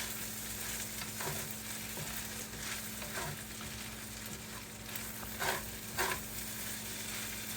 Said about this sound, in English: I'm going to add just a little bit more olive oil in there to get it a little bit moister and not sticking to the pan as much.